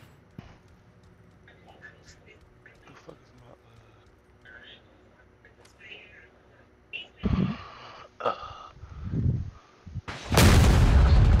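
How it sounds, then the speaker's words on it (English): A giant explosion in the video game PUBG: Battlegrounds bursts loudly near the end, after several heavy thuds and booms over a quieter stretch of background game noise. "Giant explosion."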